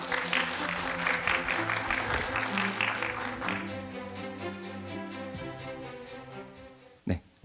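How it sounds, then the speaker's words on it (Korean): Applause from an audience at a dental implant meeting welcomes a speaker, a steady patter of many hands that fades after a few seconds as a low hum and some background tones carry on, ending in a brief knock. "자, 큰 박수로 맞으십시오."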